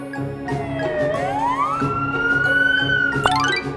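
Ambulance siren wailing continuously, the pitch sweeping up and down in long glides at close, loud range, with a sharp click just before it fades.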